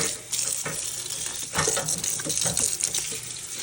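Hot water runs from a tap to rinse Crocs, a continuous splashing flow with irregular louder spatters as the shoes move under the stream.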